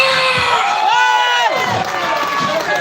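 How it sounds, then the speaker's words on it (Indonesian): A large crowd at a solidarity rally in Bekasi cheers and shouts loudly and continuously, with whoops and high yells rising over the roar. "Sekali lagi berikan tepuk tangan yang meriah kepada Provinsi Jawa Barat."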